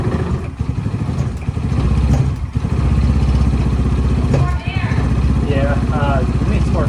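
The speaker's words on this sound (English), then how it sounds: "So that's with the choke. And I just closed the choke." A Hammerhead 150 go-kart engine runs with its choke closed, giving a loud, steady, rough mid-pitched drone at close range, with people talking over it.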